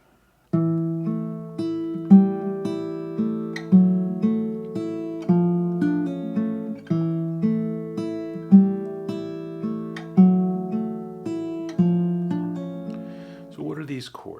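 Chord progression from a song, played as sustained keyboard-like chords struck in a steady rhythm, each attack decaying before the next, with a short flourish at the end.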